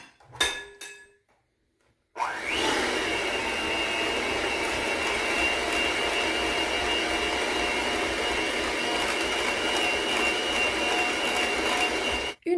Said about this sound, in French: Je vais mélanger le tout avec le fouet électrique.